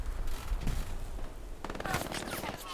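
Machine gun fire during a competitive tank match in a video game, a rapid rattling burst that sits under talk and grows sharper and louder near the end.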